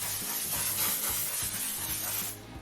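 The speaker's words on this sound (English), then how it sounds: "grab your hairspray" Hairspray hisses from an aerosol can onto wavy beach-styled hair in a steady, close spray lasting a couple of seconds, with faint music underneath.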